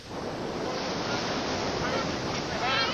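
Loud, close surf off the British Virgin Islands, with ocean waves crashing and hissing in an unbroken roar and wind buffeting the microphone throughout.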